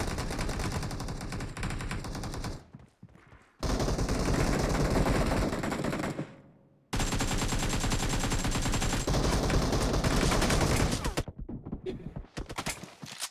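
Sustained automatic gunfire in the mobile shooter BGMI, long loud bursts broken by short pauses, with rapid close rounds rattling near the end.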